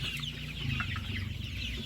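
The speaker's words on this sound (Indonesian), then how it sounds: "Ini ayam ulu kita usia 47 hari." Ulu chickens about 47 days old cluck and murmur continuously inside a farm poultry house, a dense, close chorus of overlapping low calls with no talking.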